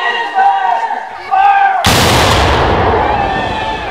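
A single heavy cannon boom bursts out at a Civil War battle reenactment after a few seconds of voices, its broad roar lingering and slowly fading.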